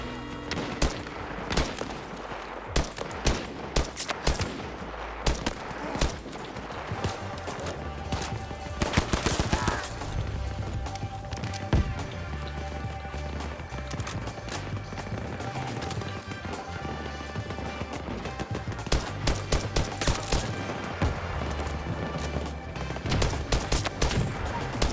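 Dense, rapid automatic gunfire from a weapon in Battlefield 2042 crackles in near-continuous bursts for the whole stretch, loud and close over a constant game soundscape.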